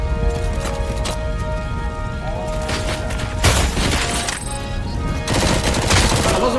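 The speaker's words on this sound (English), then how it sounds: "Stop shooting me." Enemy gunfire in the RoboCop Rogue City video game on Extreme difficulty, loud rapid shots and bursts mixed with game music and heavy impacts.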